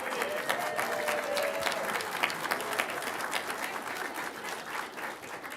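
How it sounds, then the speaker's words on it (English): An audience at a city council meeting claps steadily for several seconds, a dense roomful of hands, moderately loud and fading slightly toward the end. "Let's give him a big round of applause."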